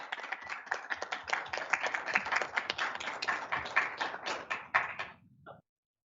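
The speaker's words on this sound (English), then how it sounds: "round of applause for sure" Applause at a regular council meeting during an award presentation: a dense round of clapping from a roomful of people, steady and fairly loud for about five seconds before quickly tapering off to silence.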